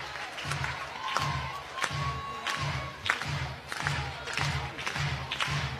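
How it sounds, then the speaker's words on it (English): Stadium crowd at a college softball game between BYU and Oklahoma, a steady roar of cheering that swells at moments, with a low rhythmic drumming or thudding pulsing beneath it throughout. "Crowd comes to life."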